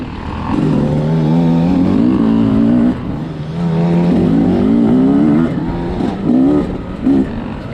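A 2020 Beta 300RR dirt bike with a counterbalanced engine revs loudly and close, rising and falling in several strong bursts with brief dips between, heard alone without talk.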